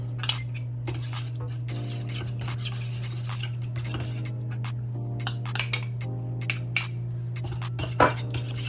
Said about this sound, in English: Stir it up. Stir it up.